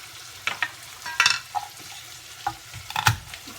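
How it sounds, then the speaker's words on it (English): Soft sizzling of garlic in a hot pan, with a few clinks and stirring scrapes of a utensil scattered throughout, close by and fairly quiet. "everything's starting to brown. You can hear it starting to sizzle."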